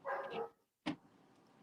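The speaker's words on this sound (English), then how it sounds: "Dogs going nuts." Dogs bark at a distance, a burst of yapping followed by a pause and one more sharp bark, fairly faint against a quiet room.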